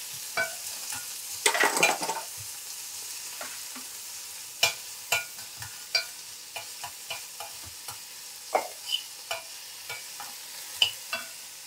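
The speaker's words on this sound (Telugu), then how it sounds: "ఉల్లిపాయలు వేసుకుందాము" Sliced onions hitting a hot pan for a paneer methi paratha, a burst of sizzling followed by steady frying with repeated sharp spoon scrapes and knocks against the pan, close and fairly loud, no voices.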